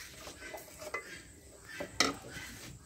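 A spoon stirring duck in a cooking pot, faint scattered scrapes and clinks of utensil against the pot, with one sharper metallic knock standing out.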